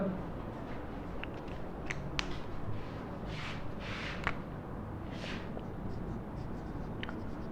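Marker or chalk scratches across a board in short strokes and taps, close and fairly quiet, with the room's background hum underneath.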